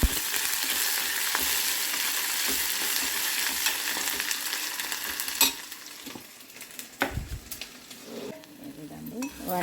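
Soya granules and tomatoes frying in oil, with a dense continuous sizzle that thins out partway through, broken by a few utensil scrapes and clinks, close by with no talking.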